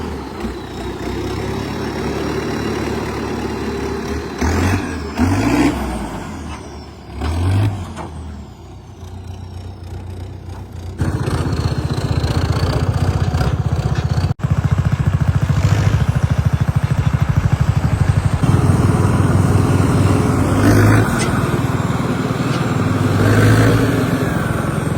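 A Sonalika RX 60 tractor engine drives while pulling a bugg cart, a loud steady diesel rumble that grows heavier and continuous in the second half, with a brief hiss-like burst near the start.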